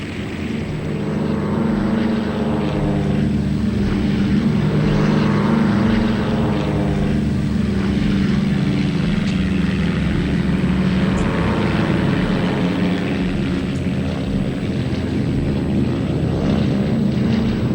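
A Liberator propeller aircraft in flight over the Mediterranean, its engines producing a steady loud droning roar with a pulsing throb that holds evenly throughout, no voices.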